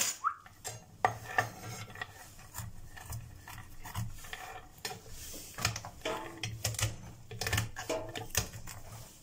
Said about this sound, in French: On va venir hacher grossièrement nos petites noisettes.